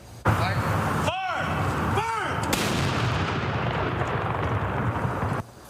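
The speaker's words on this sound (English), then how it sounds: "A 21-gun salute marked the end of 2 minutes of silence in honor of fallen soldiers" Blank artillery rounds fire in a 21-gun salute at a Remembrance Day memorial outside the Alberta Legislature, two loud booms a second apart, each followed by a long rolling echo over the outdoor crowd.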